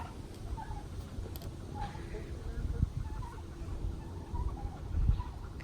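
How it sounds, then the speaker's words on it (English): Turkeys gobbling and clucking around a compost bin outdoors, with short faint calls scattered over low rustling background noise and a few soft thumps. "the turkeys have found the compost"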